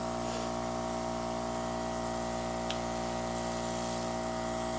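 An airbrush gun sprays gold blush makeup in a steady, close, continuous hiss over a low electrical hum from the compressor system, with no break.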